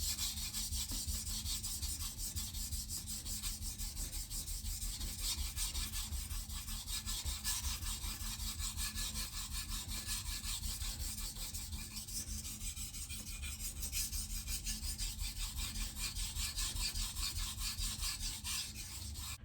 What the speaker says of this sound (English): just testing the sharpening with this Japanese knife